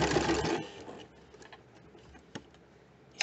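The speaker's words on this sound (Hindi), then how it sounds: "अब बुकराम से बिल्कुल लग कर के सिलाई करेंगे, जैसा शेप है शेप को मेंटेन करते हुए सिलाई करेंगे।" A sewing machine stitches close along stiff buckram in home tailoring, following a cross-shaped edge. It runs in a brief, fairly loud burst, then quiets to faint mechanical ticks and a sharp click near the end.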